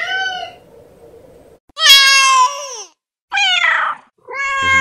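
A cat meows loudly and up close, several separate drawn-out cries with short silences between them, each rising and falling in pitch.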